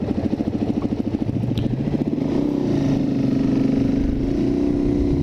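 A Suzuki DRZ400 supermoto dirt bike engine runs loud and close while being ridden, pulsing rapidly at first and then settling into a steady, sustained drone as it holds speed.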